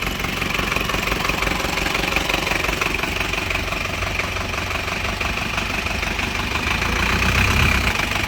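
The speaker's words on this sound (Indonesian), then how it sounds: "Sekarang coba kita nyalakan untuk performa mesinnya. Ini mesinnya udah dinyalakan sama Om Arif." A used car's engine runs at a steady idle after being started, a loud continuous rumble with a faint knocking texture that holds evenly throughout, close to the listener and without speech.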